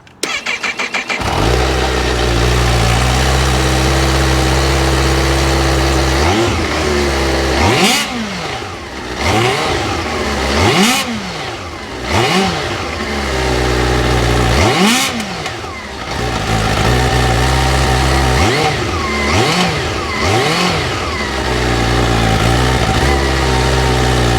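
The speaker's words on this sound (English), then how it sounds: "this is how the 2023 Kawasaki Ninja H2 SX SE sounds" A supercharged 2023 Kawasaki Ninja H2 SX SE sport motorcycle engine idles with a steady rumble, then revs repeatedly in sharp surges that rise and fall, loud and close.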